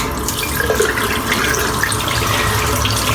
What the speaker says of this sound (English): Rinse the soap off